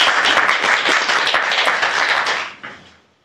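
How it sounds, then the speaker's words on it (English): An indoor audience applauds a speaker with dense, loud clapping that holds steady for a few seconds, then thins and fades away. "I just want everyone to give a warm round of applause to Daoud."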